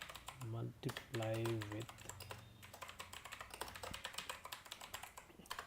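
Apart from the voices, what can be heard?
typing on a computer keyboard, writing test code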